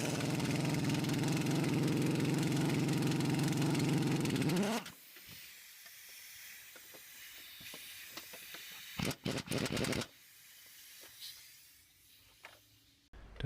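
Air impact gun running at reduced pressure on a control arm nut of a BMW 3 Series E46 front suspension, a loud continuous whirring hiss for several seconds, then stopping, followed by short rattling bursts and quieter workshop clatter.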